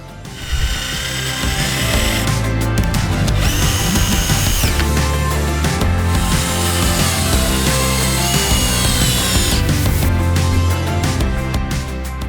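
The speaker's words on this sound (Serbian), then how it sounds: "Odsečeni komad se pričvršćuje zavrtnjima kao stepenik na dnu palete." Power drill driving screws into pallet wood to fix a cut piece as a step at the bottom of a pallet, a loud steady whirring with brief ratcheting bursts and pauses over about twelve seconds, close by with no talk.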